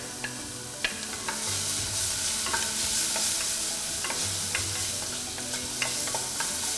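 Ginger and garlic fry for a chili sauce, sizzling steadily in a pan while a utensil stirs and scrapes with scattered sharp clicks and taps, close and continuous with no voices.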